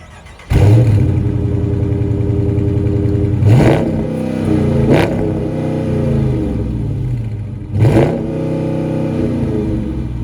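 Revving exhaust of a Dodge Charger Daytona with a 5.7 V8, several loud close blips rising and falling over a steady rumbling idle, with no talking.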